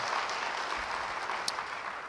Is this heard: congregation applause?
yes